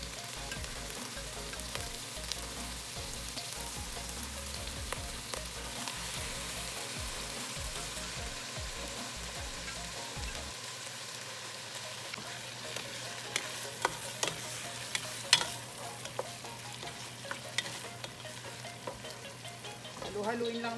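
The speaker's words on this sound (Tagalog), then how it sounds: "Haluin lang natin hanggang sa maigisa natin tong ating atay at balon-balunan." Chicken liver and gizzards sauté in a hot pan, giving a long, even sizzle like light rain with scattered scrapes and taps of a stirring utensil, close up and with no voices.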